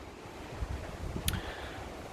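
Strong wind buffets the microphone outdoors in a garden beside a pomelo tree, a steady rushing roar with a brief gust-like burst partway through, no talking.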